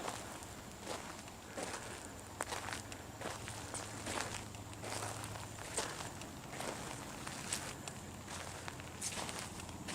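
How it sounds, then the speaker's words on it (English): Soft, slow footsteps on a nature trail near a pond, a quiet uneven series of crunching steps on leaf litter and soil, close by, with faint rustling between them. "I'm taking soft footsteps, slowly, and they still sense me"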